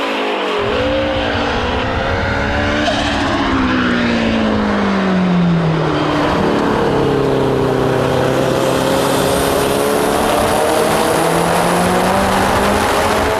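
A Mazda RX-8 race car engine revs hard and continuously on Oran Park's short circuit, pitch sweeping up and down through gear changes as it speeds past.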